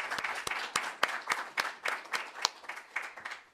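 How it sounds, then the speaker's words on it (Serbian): An audience applauding to welcome Kosovo Serb guests at a Belgrade gathering: a steady run of crowd clapping with sharp, rhythmic claps standing out near the microphone. "I ja vas molim na početku da ih pre svega pozdravimo jednim aplauzom"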